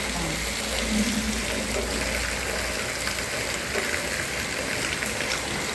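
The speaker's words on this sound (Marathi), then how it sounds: "खूप मोठा म्हणजे खूप मोठा पाऊस चालू आहे" Heavy cloudburst rain pours down in a dense, unbroken roar, loud and close, with no pauses throughout.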